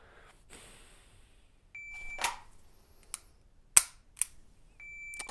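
Electronic shot timer start beep during dry-fire pistol drill with a Glock or Beretta, a few short sharp beeps and clicks spaced through a quiet room, moderately loud and close, no talking.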